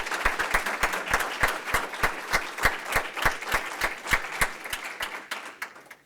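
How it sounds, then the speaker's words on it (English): Audience at a school board meeting breaking into clapping for a playwriting festival award, a steady rhythmic round of claps, loud and close, that fades out near the end. "You can clap."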